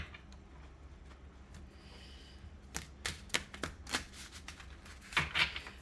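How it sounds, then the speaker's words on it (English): A deck of tarot cards being shuffled by hand: quiet room tone, then a burst of quick riffling snaps and soft slaps in uneven clusters, close and fairly faint. "I'm going to shuffle them one more time"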